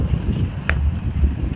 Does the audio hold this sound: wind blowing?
yes